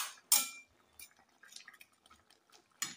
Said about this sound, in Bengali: এবার আমি মাছ ভাজাগুলো সব দিয়ে দিচ্ছি ঝোলে।